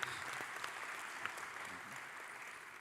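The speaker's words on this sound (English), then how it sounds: "ladies and gentlemen, a round of applause to him" Audience at a pension summit giving a speaker a round of applause, a steady, moderately distant patter of many hands with a few sharper claps standing out.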